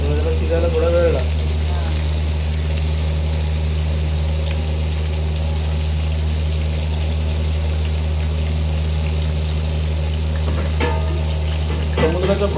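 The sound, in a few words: mackerel (bangda) frying on a stove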